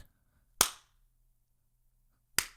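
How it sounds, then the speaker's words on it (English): Two sharp, crisp hand claps ring out separately in a quiet room, about two seconds apart, each with a brief reverberant tail. "How come my clap doesn't sound as cool as his?"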